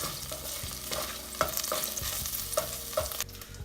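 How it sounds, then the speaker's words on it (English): Garlic browning in a pan for chicken alfredo gives a steady, close sizzle, broken by a few sharp clinks and scrapes as it is stirred. "We're just gonna let this garlic brown for a little bit."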